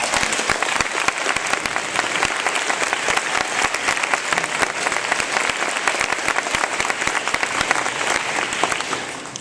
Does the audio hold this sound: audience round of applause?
yes